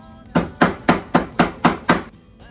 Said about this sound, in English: take the hammer from your sous chef and do it yourself